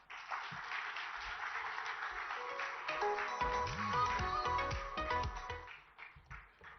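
An audience at a formal ceremony in Hyderabad, Telangana, applauds steadily. The clapping is moderate and sustained, with faint tonal sounds mixed in, and it thins out toward the end.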